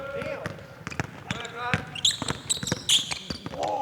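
Basketballs bounce repeatedly on a gym court during a youth ball-handling drill at a FIBA NBA Basketball Without Borders Asia camp, sharp thuds in an irregular rhythm under a coach's shouted instructions and players' voices.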